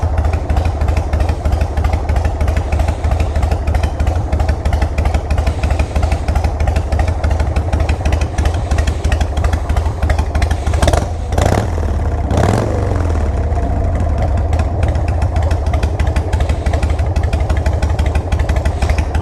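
A carbureted Harley-Davidson Sportster 883 Hugger, just back from repair, idles loud and close with a steady, lumpy throb that runs continuously, with a couple of brief throttle blips partway through.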